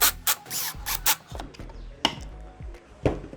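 Screws 1 1/4 inch long driven into Kreg 320 pocket holes, a series of short scraping, grinding bursts with sharp thumps as each seats, close and fairly loud, no voices.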